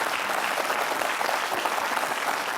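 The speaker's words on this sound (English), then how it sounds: "Round of applause to Leader 3 and Leader 6." An audience gives a round of applause for two contestants at a leadership competition show, a dense, even burst of clapping that carries through the whole moment at steady loudness.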